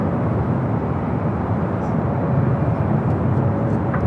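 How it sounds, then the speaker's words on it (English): A KLM airliner on its takeoff run at LAX, heard as a loud, continuous broadband jet roar that holds steady throughout. "KLM, flight 602, heading back to Amsterdam, heading up here for north side at takeoff."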